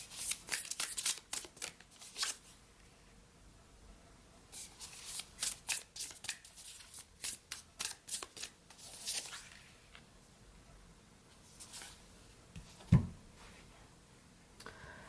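Tarot cards are shuffled up close in repeated quiet riffles and slides of the deck, with pauses between bursts and a single louder tap near the end.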